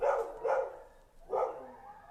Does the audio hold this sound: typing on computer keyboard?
no